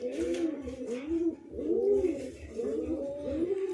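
A pair of big fancy lakka (fantail) pigeons in a loft coo in soft, repeated rolling phrases, close by and fairly quiet, in a steady rhythm.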